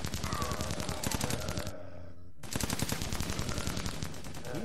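Rapid automatic gunfire from the video game Sun Age rattles loudly in dense, continuous bursts, broken by one brief pause before the shooting resumes just as hard.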